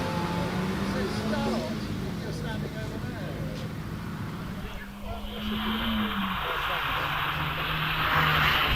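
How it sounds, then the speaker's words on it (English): A Mazda MX-5 rally car pulls away from a hillclimb start line at night, its engine note rising steadily through the revs, with a voice talking over the continuous drone. "Tim Cross sits on the start line in the shared Mazda MX-5, and away he goes"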